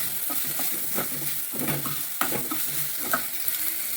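Tomatoes being stirred into a sizzling cashew curry in a pan, Kokani style, with a steady frying hiss and repeated scraping strokes of the spoon close by, no talking.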